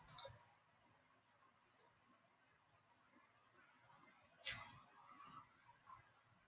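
Computer mouse clicks on a free online children's reading site, a couple of faint sharp clicks, one near the start and one midway, over quiet room noise.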